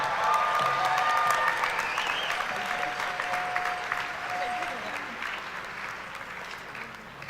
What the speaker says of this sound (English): please join me in another round of applause for our graduates today